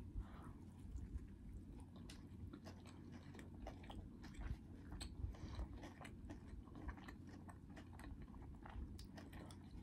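Someone bites into and chews a burger topped with vegetables, up close, with moist crunching and smacking in a steady run of irregular bites and chews and no talk.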